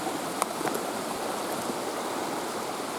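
A woodland waterfall in the UK pours with a steady broadband rush of falling water, moderately distant and unbroken, with a few faint knocks near the start.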